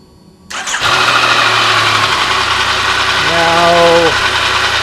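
A 2015 Yamaha FJ-09 motorcycle engine catches after a brief crank and settles into a steady, rough, abnormal-sounding idle, loud and close, with a rising whine near the end.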